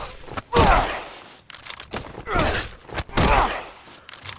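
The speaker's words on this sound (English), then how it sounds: "Like a little punch and then a kick." In Resident Evil Village, melee hits land as heavy, booming impacts: a loud punch followed by two more thudding blows, each trailing grunts and swooshing effects. The sequence is close and forceful, with no talk over it.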